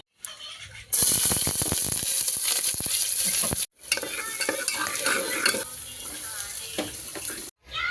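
Vegetables with onion sizzle steadily in a hot pressure cooker while a utensil stirs and scrapes through them, loud and close, with brief pauses in the cooking noise.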